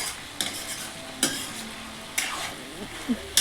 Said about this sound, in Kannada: ಶುಂಠಿ ಬೆಳ್ಳುಳ್ಳಿ ಪೇಸ್ಟ್ ಅದನ್ನು ಹಾಕಿ ಸಹ ನಾನು ಎಣ್ಣೆ ಮತ್ತು ಚಿಕನಲ್ಲಿ ಫ್ರೈ ಮಾಡ್ಕೊಳ್ತಾ ಇದ್ದೀನಿ